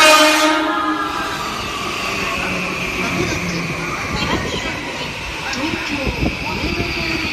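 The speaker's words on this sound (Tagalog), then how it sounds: "The local train will arrive shortly on track 2." A local train pulls into a station in Japan: a loud, sustained rumble of rolling wagons with high steady whines and squeals, and a voice heard over the noise.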